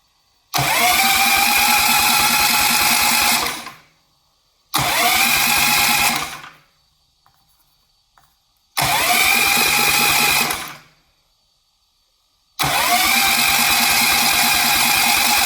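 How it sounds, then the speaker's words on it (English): Starter cranking the supercharged engine of a 1/4 scale RC Willys, belt-driven blower spinning: four loud sustained bursts of about three seconds each, separated by short silent pauses, with no ignition catching. "right now I'm going to let the starter run and see if the belt is running properly on the supercharger"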